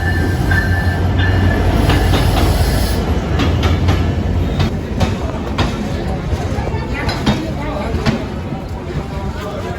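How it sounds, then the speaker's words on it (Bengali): Drutojan Express passenger train running on the rails, with loud steady rumble of wheels, clicking joints and occasional squeals throughout, heard close from on board. "যাত্রা সঙ্গী হিসাবে ট্রেন থাকছে দ্রুতযান এক্সপ্রেস ট্রেন।"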